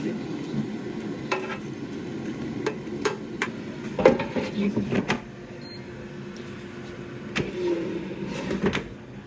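Chicken wings flipped in a double-basket air fryer: a string of sharp clanks and taps of tongs against the metal basket, clustered in bursts, with a low appliance hum underneath and some quiet talk between.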